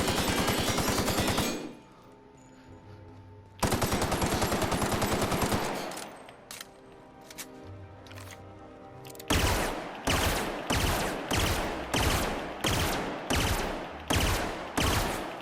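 Bursts of rapid gunfire from a weapon in the video game The Outer Worlds, loud and close, with long sustained volleys early on and then a steady rhythm of short repeated shots.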